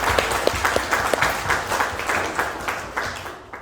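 Audience applause after a community final presentation in McKinley Park, a steady wash of many hands clapping with a few sharper claps standing out, fading slightly toward the end.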